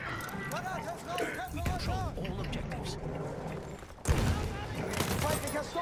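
Rapid gunfire crackles in the Battlefield 1 video game during a Domination match, a dense, continuous spray of shots heard under a player's steady talk, with a louder burst near the end.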